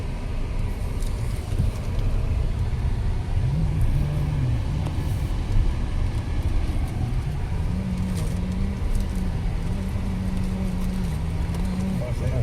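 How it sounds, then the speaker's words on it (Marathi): A car drives away from a temple with a low, steady engine rumble and road noise close up inside the cabin, and a voice talks over the engine hum. "चला गाडी स्टार्ट केली."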